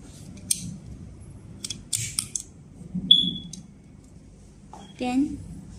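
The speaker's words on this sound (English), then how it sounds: "Then we cut another fiber to see the fusion result." An optical fiber cleaver snaps through a fiber with a short, sharp click amid quiet handling noises and faint background hum.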